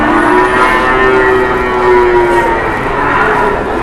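A cow moos in a long, drawn-out low call, loud and close, with faint background noise around it.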